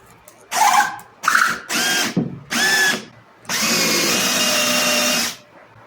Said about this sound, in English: Here's my drill with the sandpaper around it.